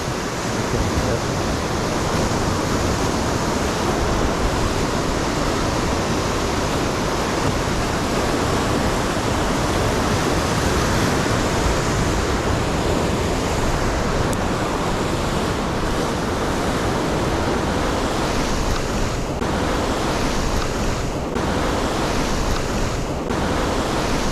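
Steady, loud wash of surf rolling in continuously at a rocky coastline, Wattamolla near Sydney, a broad roar of breaking water with wind buffeting the microphone.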